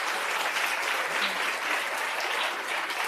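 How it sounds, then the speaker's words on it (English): Audience at a dental school research and clinical excellence awards day breaks into continuous applause, a dense even wash of many hands clapping at moderate volume throughout. "just a round of applause for everybody here"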